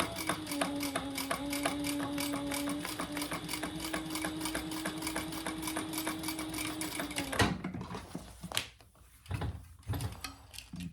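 Sewing machine stitching a vinyl shoulder bag, a steady close mechanical whirr with a rapid needle rhythm running for about seven seconds, then stopping abruptly and leaving scattered handling clicks.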